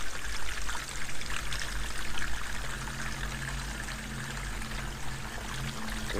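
A gallon of water pours steadily into a pressurized solar-heated tank, a continuous splashing stream with a gurgling, slightly uneven flow from start to finish.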